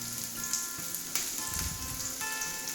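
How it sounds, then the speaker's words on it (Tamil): Shallots, garlic and tamarind sauté in hot oil for a Tamil peanut chutney, a steady close sizzle with faint crackles and an occasional stir, no talking. "இதெல்லாம் நல்லா வதக்கிக்கலாங்க."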